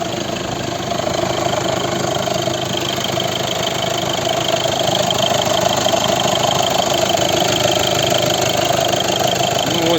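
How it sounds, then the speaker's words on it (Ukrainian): The two-litre turbodiesel engine of a 2015 VW Golf VII GTD idles steadily close by, a constant rumbling drone with a faint rattle and no change in pace. "А у нас двохлітровий дизель, турбодизель."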